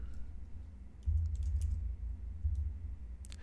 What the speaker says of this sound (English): we can just go ahead and type sudo raspi config